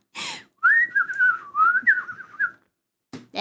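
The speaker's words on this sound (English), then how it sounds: "I'm not that good at whistling today." A person whistles a wavering, slightly breathy melody in short phrases over about two seconds, close and clear, with brief noisy sounds just before and after.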